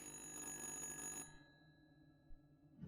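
A telephone rings in the video game Little Hope, a steady multi-tone electronic bell that sounds for about a second and then cuts off, leaving faint low background rumble.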